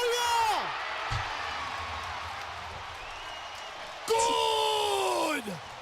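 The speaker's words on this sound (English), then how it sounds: "The crowd sounds like a high school gym." A basketball arena crowd heard on a broadcast breaks into bursts of whooping yells and cheers, rising loudly twice with a quieter murmur between, while a commentator talks.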